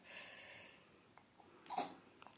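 A single quick, soft sneeze, faint and somewhat distant, over a low background hum.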